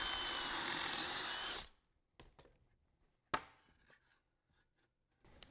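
A power drill bores screw holes in cabinet case panels in a woodworking shop: a long steady drilling burst stops, followed by scattered clicks, a sharp knock and brief handling noises before the drill starts again.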